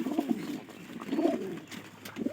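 Rajshahi Giribaz pigeons coo in low, throaty bursts close by, three soft swelling calls over a few seconds with faint background noise and no talking.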